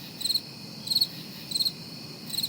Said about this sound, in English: Crickets? Crickets?